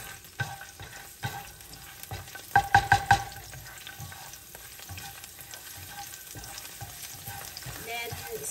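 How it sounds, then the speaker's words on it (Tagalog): Garlic frying in oil in a frying pan, a continuous close sizzle with occasional stirring scrapes and a brief cluster of clinks from a utensil against the pan. "We just put oil sa ating kawali. Then, lagyan na po natin yung ating bawang."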